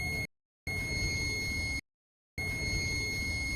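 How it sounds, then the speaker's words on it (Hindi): A multimeter on continuity mode beeps steadily while testing a shorted 650 V N-channel MOSFET in a dead SMPS, two long tones separated by a short gap and then a third, loud and close. "देखिए दोस्तों, अभी भी हमें बीप साउंड आ रही है।"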